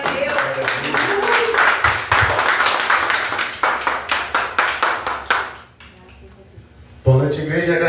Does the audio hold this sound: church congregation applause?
yes